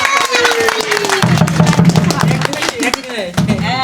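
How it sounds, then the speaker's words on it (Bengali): An audience claps along at a village Christmas night dance gathering, with rapid, dense handclaps throughout over crowd noise and voices, loud and close. "হাততালি"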